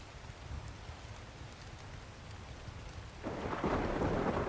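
Steady rain pours alongside rolling thunder in the survival game Ark, the downpour swelling noticeably louder and fuller toward the end.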